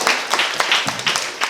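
Audience at a young scientists' science slam gives brief applause for a prize winner, a short burst of close, uneven hand claps.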